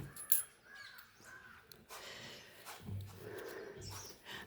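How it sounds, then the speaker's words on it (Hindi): Birds call for food with a run of harsh, crow-like caws and squawks, mid-distance, rising into a busy, noisy stretch of calling. "और ये चिड़ियाँ जो मांगती हैं, अगर ना दूँ तो सोने भी नहीं देते ये सभी।"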